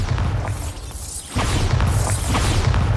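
Hogwarts Legacy video game: the Bombarda blasting spell bursts with low booming rumbles and crashing debris, a short dip near the middle, then the loud blast noise resumes.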